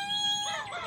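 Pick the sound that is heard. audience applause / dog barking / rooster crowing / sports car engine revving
rooster crowing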